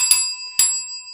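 A bell sound effect rings twice, two bright struck chimes about half a second apart, each with a long shimmering ring that fades between strikes, loud and clear with no talk.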